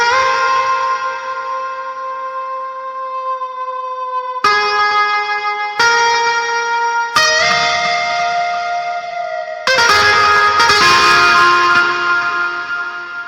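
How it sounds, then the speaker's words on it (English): Electric guitar run through the Hardcore distortion plugin in FL Studio: bright ringing chords struck in sequence, sustaining with buzzing overtones and growing denser and harsher toward the end, with no speech. "we have the acoustic guitar, but it's really an electric guitar because I already put hardcore on it"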